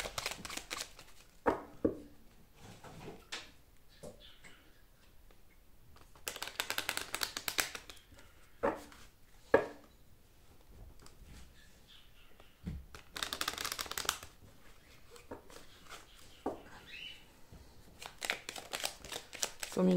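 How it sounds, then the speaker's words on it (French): Lenormand cards are shuffled by hand, with repeated soft riffles and flutters and occasional sharp taps that come in bursts separated by quiet pauses, all close and fairly faint. "je vais bien mélanger mes cartes"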